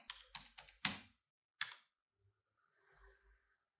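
Several quick keystrokes on a computer keyboard while entering an IP address, a rapid cluster of clicks followed by a single firmer tap, then quiet with faint background noise.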